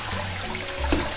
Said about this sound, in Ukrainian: Омию її холодною водою і дам їй трішки можливості стікти.